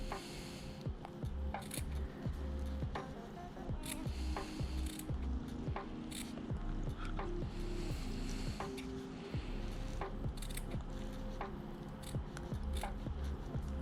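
Scissors snip silk fabric close to the hem stitches in a series of short, crisp, repeated cuts, near and fairly quiet over faint mechanical background, no talking.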